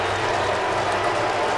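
Home crowd at a Toronto Argonauts CFL football game against the Saskatchewan Roughriders, a broad, steady stadium roar with scattered applause filling the whole moment, no single voice standing out.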